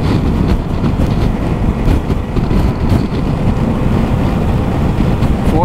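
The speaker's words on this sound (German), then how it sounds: "Jetzt schauen wir mal mit dem Berg hier. Ich gebe mal Vollgas." A Yamaha XMAX 300 scooter, a 2022 model, climbs a hill at full throttle, its engine a steady, loud drone heavily buffeted by wind rush across the microphone, with no talk over it.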